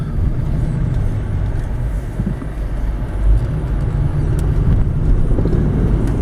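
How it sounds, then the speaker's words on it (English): Steady low engine and road rumble inside a 2009 Subaru Outback on a test drive, a smooth, continuous drone with faint tire noise and no talking. "Smooth running vehicle, very quiet."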